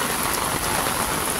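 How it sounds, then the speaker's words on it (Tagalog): Steady rain pouring onto a beach pathway in Boracay, a dense even hiss of drops close by, no voices over it. "Gusto niyo rin ba ang rain?"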